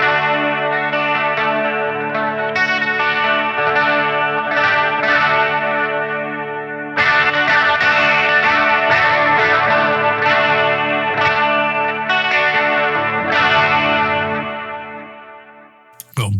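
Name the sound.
guitar through NUX Trident deluxe reverb amp model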